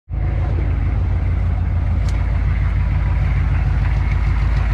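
Chevrolet car engine, apparently a Chev Greta, idling steadily from a cold start, a loud close rumble with a fast even pulse that holds unchanged throughout.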